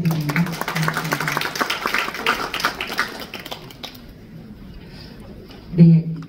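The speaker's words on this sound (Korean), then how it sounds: "다시 한번 오늘 좋은 강의 해주신 김현재 실장님께 한 번 더 큰 박수 부탁드립니다" An audience at a library policy meeting claps for about four seconds, a dense patter of hands under a speaker's voice, before the room goes quiet apart from a brief low thump.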